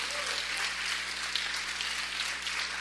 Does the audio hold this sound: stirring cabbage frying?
no